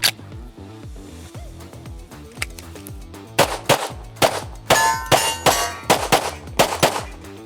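Sharp, loud gunshots from a CZ Shadow 2 optics-ready pistol firing 147 grain bullets, a few isolated reports at first and then a rapid string of about ten shots with metallic ringing between them.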